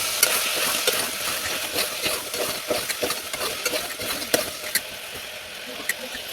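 Beef curry being stirred in a pan with turmeric, chili powder, salt and curry leaves: repeated scraping stir strokes over a steady frying sizzle, close and fairly loud, with no talking.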